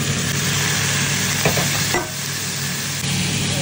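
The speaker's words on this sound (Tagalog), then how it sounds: "Lagyan ko na yung meatballs. Lagyan ko na yung carrots at saka ating kalabasa." Meatballs, carrots and squash go into a pot for vegetable soup and get stirred, making a steady frying hiss with a few soft knocks of utensil against the pot, no voices.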